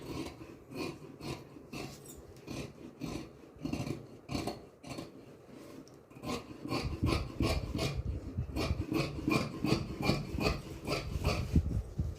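Fabric for sewing being cut with scissors at close range, a rapid series of crisp snipping strokes that keeps a steady rhythm and grows denser and louder in the second half.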